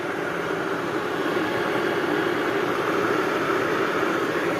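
An electric kettle boiling: a steady, loud rushing roar with a bubbling hiss of water heating, constant throughout with no talking.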